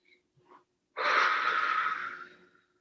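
A single long, breathy exhale from one person pausing mid tapping session, following a couple of tiny faint sounds, close and quiet, fading out after about a second and a half.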